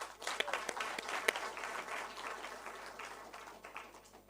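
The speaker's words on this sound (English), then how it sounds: "A big round of applause, please" Audience at a book launch applauding, a soft distant wash of clapping with a few sharper individual claps, steady for several seconds.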